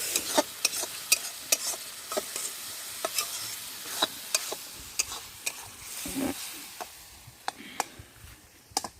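Khatta, a sour dish, being stirred in a pot at an outdoor riverside village feast, with sharp scraping clicks of the spoon repeating irregularly over a low steady sizzle, close and moderately loud, no talking.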